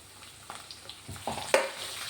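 Ginger and garlic fry in hot oil for a mushroom roast, a soft sizzle broken by a few sharp scraping stirs and clinks, close and fairly quiet, with no talking.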